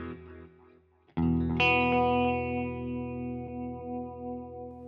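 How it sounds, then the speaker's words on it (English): An electric guitar runs through a Line 6 POD Express with spring reverb and tape delay: a few soft picked notes, then a loud, bright chord that rings on and decays slowly with echoing repeats. "I'm going to go with some spring reverb, some tape delay maybe"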